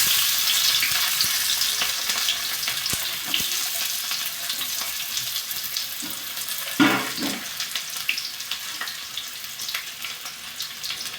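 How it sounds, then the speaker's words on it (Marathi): Onion frying in hot oil for onion bhaji, a steady loud sizzle throughout with occasional stirring clatter, close by, no talk. "तेल गरम झालेलं आहे. कांदा त्यात घालून घेऊ आपण."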